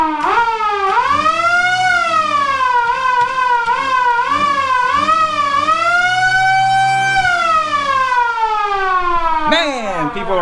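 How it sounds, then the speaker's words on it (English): A police siren fitted to a Ford Ranchero wails loud and close, sweeping up and down in long continuous cycles for the whole stretch, with no voices over it. "up is going to be for the siren"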